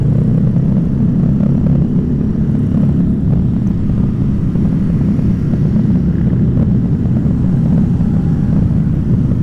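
Constant loud drone of motorcycles, Honda Vario, Supra and Yamaha Mio scooters among them, riding together on a night ride in Tasikmalaya, a dense steady engine roar with no pauses.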